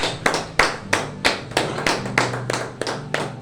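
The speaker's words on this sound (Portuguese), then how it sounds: "Dá uma salva de palmas para Jesus" A church congregation claps for Jesus at a worship service: a sparse, rhythmic run of sharp hand claps at a quick, even tempo, moderately close, with little else around them.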